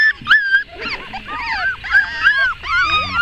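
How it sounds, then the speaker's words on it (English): Several puppies and dogs whimper and yip in high, wavering cries that overlap continuously, fairly close, with a few sharper yelps among them. "That's Wayne keeping the dogs away from the puppies"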